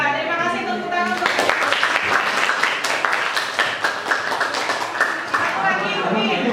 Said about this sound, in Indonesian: Mas Maisa, terima kasih tepuk tangan untuk